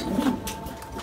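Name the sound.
pigeons in a loft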